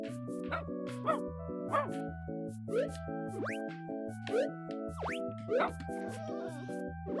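Dogs bark in UE4 KittenGame, a kitten game with a water level full of fish. Short barks and yips repeat every second or so over steady looping game music.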